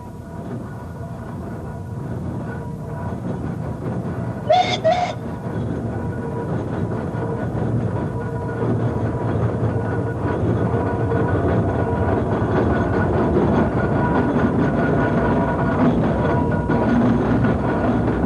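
A Foden steam road engine rumbles along with a heavy, steady low drone that grows louder and nearer, broken early by a brief double whistle-like tone, with no voices.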